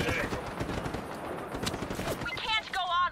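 Rapid automatic gunfire in Just Cause 3 crackles in a dense burst, close and loud, then thins out near the end as clipped game sounds and brief voices take over.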